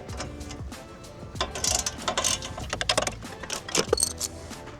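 A 10mm socket on a ratchet backs out the lower radiator support bolts on a Ford Focus ST, giving quick bursts of close, dry ratcheting clicks with short pauses between them.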